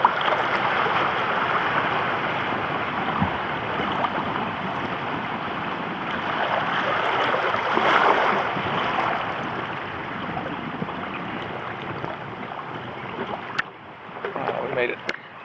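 Paddling a small boat along a creek, with steady water swishing and splashing against the hull throughout, a brief sharp knock near the end, and a voice speaking now and then.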